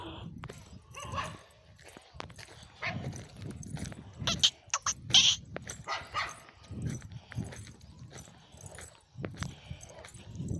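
Dogs bark in a village street in scattered sharp bursts, some loud and near, with people talking and moving between the barks.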